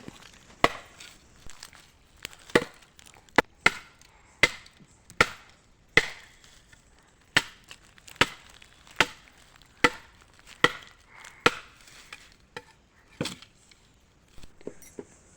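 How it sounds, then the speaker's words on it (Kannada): Firewood is chopped outdoors by hand with about twenty sharp, woody strikes at a steady, unhurried rhythm, each crisp and fairly close, with quiet gaps between blows. "ಹಾಗೆ ಸ್ವಲ್ಪ ಹೊತ್ತು ಕಟ್ಟಿಗೆಯನ್ನು ಕಟ್ ಮಾಡಿದ್ದು"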